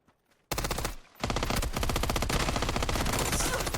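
Sustained rapid automatic gunfire from PUBG fire into a breakable fence, starting abruptly after a short quiet lead-in, with a brief dip before the loud, dense burst continues to the end.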